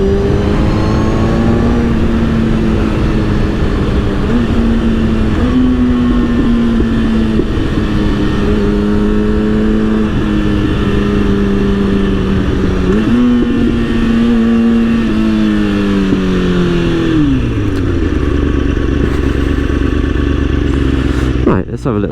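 A 2003 Kawasaki ZX6R 636 sport bike pulls hard on an open road, its engine note rising steadily and dipping on gear changes, loud and close throughout with a constant rush of wind noise.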